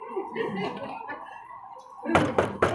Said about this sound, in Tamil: யார் சத்தம் தட்டுறாங்க?